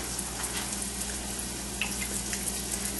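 Coated green tomatoes fry in oil in a pan, giving a steady, even sizzle sprinkled with small crackles and pops, heard up close with no talking.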